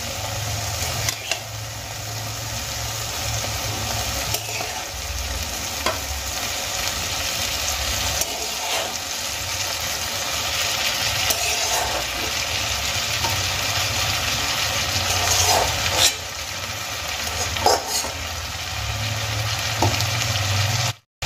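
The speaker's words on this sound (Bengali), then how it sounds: "এবার আমি বেগুনগুলো আলু আর মশলার সঙ্গে খুব ভালো করে মিশিয়ে নেব।" Fried eggplant being stirred into boiled potatoes and spices in a pan for begun aloo jhal, a steady sizzle running throughout with occasional scrapes and knocks of the spoon, close and fairly loud, no talking.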